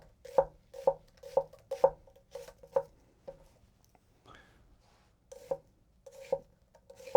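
A hand-forged Aogami Super kiritsuke knife chops onion on a board with gentle, evenly spaced taps, about six in a row, a pause, then two more, each crisp and close with no talk.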